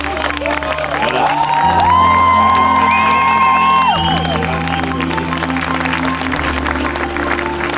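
A large crowd at a charity rally departure event cheers and applauds loudly, with whoops and shouts rising over dense clapping and a sustained background hum.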